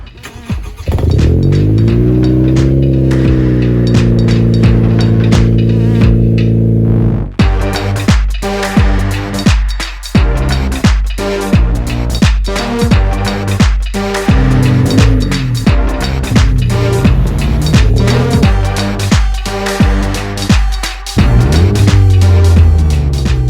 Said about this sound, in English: Here's a cold startup.